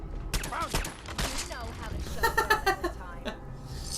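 Gunfire in Fallout 4: several sharp, close shots in quick bursts mixed with clanking and mechanical game effects, with a voice talking over parts of it.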